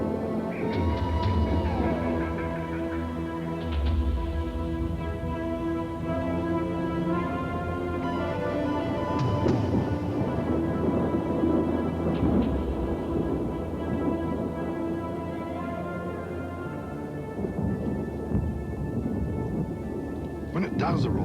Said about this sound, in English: the afternoon thunderstorms are scattered all over the countryside